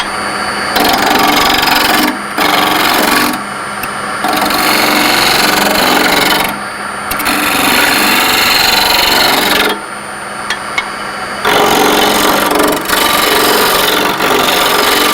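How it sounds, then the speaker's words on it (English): A wood lathe makes light cuts while turning a wooden sphere, giving a loud, continuous scraping hiss that stops and restarts in several bursts with short pauses between them. "We will make light cuts. Maybe a little more lathe speed."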